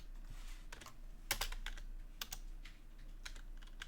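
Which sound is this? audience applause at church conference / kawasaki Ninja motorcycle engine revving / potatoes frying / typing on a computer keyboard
typing on a computer keyboard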